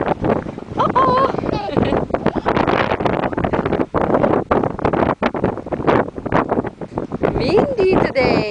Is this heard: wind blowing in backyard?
yes